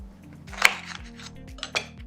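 A knife chops vegan Oreo cookies in half on a cutting board, producing a few sharp, close clicks and taps against a faint background hum, with no talking.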